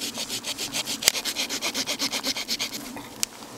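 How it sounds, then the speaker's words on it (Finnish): A homemade bow saw, built with a Leatherman, cuts through a spruce branch in quick, even back-and-forth strokes, about a dozen rasping passes close up with no talking, ending with a sharp snap. "Pannaan kuusen oksa poikki."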